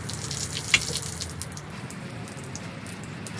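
Water from a garden hose sprays onto an outdoor rug, a continuous hissing spatter that stays close and fairly loud throughout with one brief sharper splash early on, and no voices.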